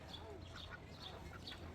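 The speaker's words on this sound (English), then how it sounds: "So you're a male duck because you have the curl" Male and female farm ducks quack in short, scattered calls against a steady noisy outdoor background, moderately close but partly buried in the ambience.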